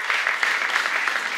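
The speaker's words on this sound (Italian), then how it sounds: "Facciamo un applauso anche a loro" Audience applause for snowboard athletes at an official sports meeting, a steady dense wash of many hands clapping throughout, fairly close and even, with no pauses.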